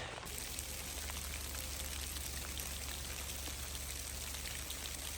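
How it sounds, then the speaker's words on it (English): Steady freezing rain hisses and patters outside during winter camping, a continuous even wash of fine drops with no pauses. "Sounds like we got some precipitation outside. I think it's rain. Nope. Even better. Freezing rain."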